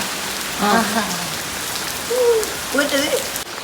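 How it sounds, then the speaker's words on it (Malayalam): Steady rain patters on a surface throughout, while a few short voice-like tones rise briefly above it. "മഴയത്ത് നോക്കിയേ അച്ചു പനി വരൂട്ടാ"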